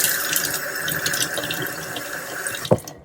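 Tap water runs steadily as items are rinsed, a close, even splashing stream that cuts off abruptly near the end with a brief knock.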